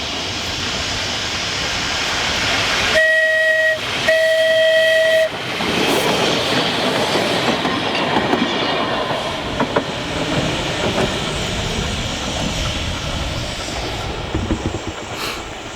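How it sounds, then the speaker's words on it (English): A vintage electric tram passes close by with a loud rumbling roll of wheels on rails, two clear tonal horn or whistle blasts early on, then a long grinding, rattling pass that slowly fades. "Here comes the tram."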